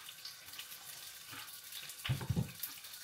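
Water pours into a cooking pot of boiling broth at home, a soft steady trickle that swells into a few louder splashes near the end, quiet and close with no voices.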